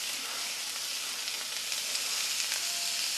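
Shallots and garlic sizzle in a little oil in a pan over medium heat, a loud, steady, close frying hiss with no talk.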